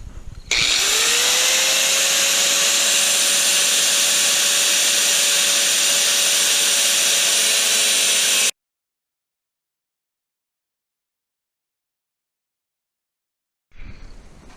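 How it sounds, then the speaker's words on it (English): An angle grinder with a cutoff disc cuts a skylight panel for a skoolie: a loud, close, high-pitched whine spins up and holds steady for about eight seconds, then stops abruptly into silence. "now I'm gonna use the angle grinder"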